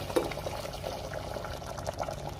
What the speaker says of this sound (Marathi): आता आपल्याला गरम पाणी घालायचंय. गरम पाणी घालते मी.